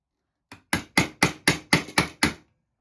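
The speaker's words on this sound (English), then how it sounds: "as long as I've got one hand holding the chisel and one hand hammering the other end" A wood chisel is struck by a hammer in eight sharp, evenly spaced knocks, close and loud, then stops.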